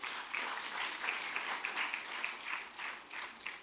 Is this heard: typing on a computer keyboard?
no